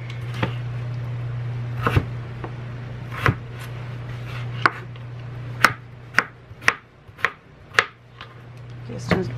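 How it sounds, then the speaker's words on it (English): Kitchen knife chopping peeled, washed potatoes into small bite-sized pieces on a cutting board, a series of sharp, close knocks, scattered at first and then quickening into a rhythmic run, over a steady low hum. "now that my potatoes are peeled and washed, I'm going to go ahead and cut them up"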